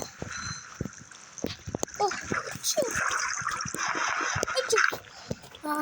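Water splashes and trickles in the video game Minecraft, a busy run of game splashes with sharp clicks mixed under continuous excited talking from a young voice.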